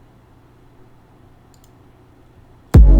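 A phonk beat's 808 bass hit lands late, a sudden loud booming low thud after nearly three seconds of faint quiet.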